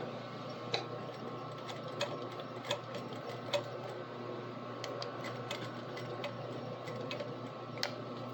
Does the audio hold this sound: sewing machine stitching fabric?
yes